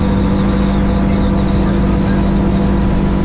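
A 2025 Duckworth 22 Navigator boat's engine runs hard at speed, a loud, steady roar with a constant tonal drone and heavy wind and water rush throughout.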